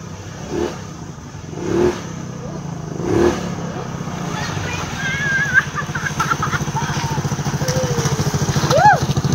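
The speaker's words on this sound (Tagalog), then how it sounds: "Ramdam ko yung liksi ng makina ng motor. Pag ibibirit mo siya, wala talagang delay, lukso agad." A Yamaha Cygnus 125 scooter, freshly top-overhauled and running in a park in Taiwan, gives three quick throttle bursts, then settles into a buzzing idle. Faint chirps and light background sounds appear near the end.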